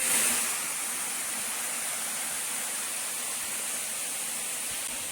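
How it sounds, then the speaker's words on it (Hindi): A waterfall beside a hillside temple pours as a steady, broad wash of rushing water, heard alone without talk. "और बगल से वाटरफॉल आ रहा है"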